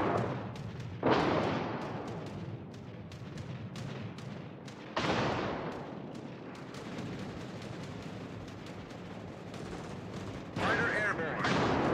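Rapid anti-aircraft gunfire and heavy secondary battery fire from warships in World of Warships, dense crackling bursts with loud booming onsets around one, five and ten seconds, with some speech mixed in.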